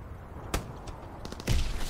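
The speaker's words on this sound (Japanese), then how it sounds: "なんかどっからか銃声が聞こえるぞ。" Faint, distant gunfire from a snowy Call of Duty: WWII map, a few scattered sharp cracks with a louder burst near the end over low game ambience.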